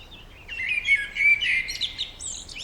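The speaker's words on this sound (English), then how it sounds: "Yes, a blackbird." A blackbird sings a short, bright, warbling phrase of fluting notes and chirps, clear and fairly close against a quiet background.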